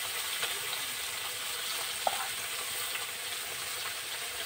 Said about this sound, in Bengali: মাছগুলো আমি লাল লাল করে ভেজে নেব।